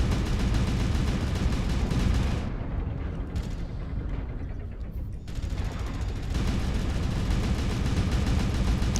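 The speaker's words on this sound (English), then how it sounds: "Airstrike online." Airstrike in MechWarrior Online, a dense, sustained barrage of rumbling explosions and crackling blasts, loud and continuous with a brief dip in the middle, no talk.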